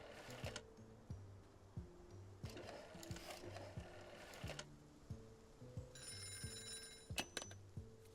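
An old telephone rings in the Tukoni video game, a faint metallic bell trill in short bursts over a repeating low mechanical ticking and clunking.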